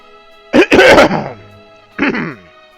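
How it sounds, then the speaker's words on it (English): A person clears their throat twice, a harsh rasping burst followed by a shorter second one, close and loud with quiet around it. "I just wanted to clear my throat out there"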